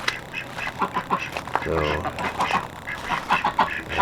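Pekin ducks quack in rapid, overlapping bursts outdoors, loud and close, with honking calls mixed in and someone speaking briefly over them.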